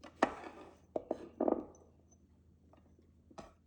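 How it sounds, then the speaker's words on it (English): A knife slicing green onions on a cutting board for chicken adobo: a handful of sharp, close taps and thuds at uneven intervals, with quiet gaps between cuts. "Thinly slice the green onions for garnishing."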